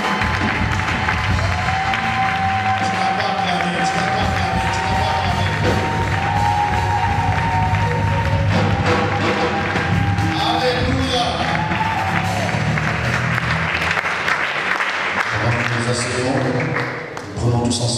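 A church congregation applauding and cheering in praise of God, a dense, sustained wash of clapping with shouts and whoops, loud and continuous throughout with music underneath, fading briefly near the end.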